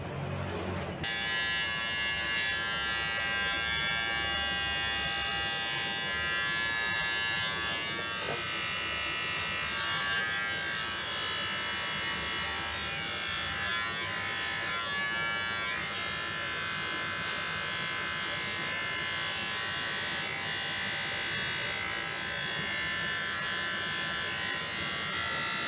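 Electric clippers buzz steadily and loudly throughout a barber's haircut, with people talking at moments underneath the continuous hum.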